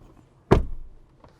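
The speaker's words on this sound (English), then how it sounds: "it's a bit hard to close the door." A rear door on a 2020 Land Rover Defender 110 mild hybrid swings shut with one solid, close thump that dies away quickly, followed by a faint click.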